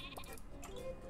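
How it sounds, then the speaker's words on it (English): A sheep in a farming video game gives a brief, wavering bleat lasting about a second over a steady background of game music. "And we have so many sheep right now"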